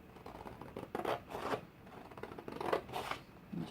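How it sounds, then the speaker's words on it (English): Scissors cut through paper for a handmade backpack-shaped gift box, giving a series of crisp snipping strokes in an uneven rhythm, close and moderately soft, with no talking. "because it looks better when I just cut it with the scissors"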